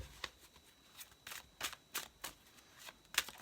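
A deck of tarot cards being shuffled: a run of crisp, papery riffling bursts at an uneven rhythm, close and fairly quiet, with no talking.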